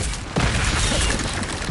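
A spell cast in the video game Hogwarts Legacy lands as a sudden forceful burst with a blast-like crack, followed by a continuous rumbling, crackling wash of effects.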